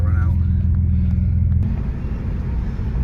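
A BMW car with a slight exhaust leak drives along, a loud, close low engine rumble with a steady throb heard from inside the cabin while a person talks.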